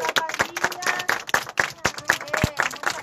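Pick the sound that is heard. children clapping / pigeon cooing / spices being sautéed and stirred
children clapping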